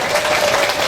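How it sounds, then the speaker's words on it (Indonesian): Dense, loud applause from an audience at a Maulid Nabi religious gathering in Palmerah, a steady wash of clapping with no gaps. "tepuk tangan."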